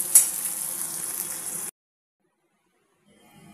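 Eggplant fries in oil with a close, steady hiss that starts with a brief scrape and then cuts off abruptly into silence, leaving a faint low rustle near the end.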